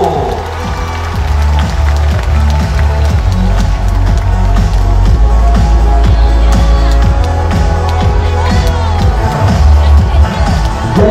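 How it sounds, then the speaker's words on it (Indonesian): Crowd at an outdoor Islamic religious gathering on a field in Malang applauds and cheers loudly and steadily throughout, a dense continuous wash of clapping and voices over a thumping low background. "Boleh berikan tepuk tangan di atas dong buat Gajah Baru."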